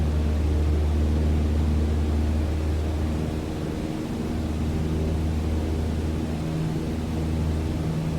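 A steady, droning propeller aircraft engine hums inside Microsoft Flight Simulator while the throttle is pushed up a little, a continuous low tonal roar with broadband noise that stays fairly constant throughout.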